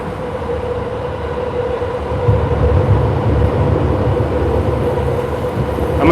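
Trains rumbling overhead on a railway bridge in Shibuya, heard from underneath, a loud continuous roar with a steady low drone that swells slightly midway, with no voices.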